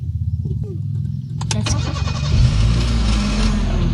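Car engine cranking with a rapid rhythmic starter churn for about a second, then catching and settling into a loud, steady running idle nearby.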